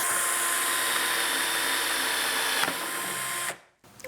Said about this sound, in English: So we can hold him nice and steady on the pipe and just drill through wherever you need to.